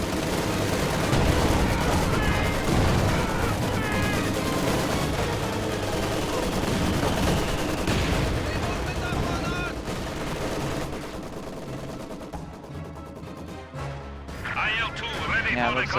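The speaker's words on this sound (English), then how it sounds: "Mortar fire falling on the machine gun." Mortar rounds and machine-gun fire in a WWII strategy game battle, dense continuous gunfire and blasts filling the mix, with a voice talking over much of it before the barrage thins near the end.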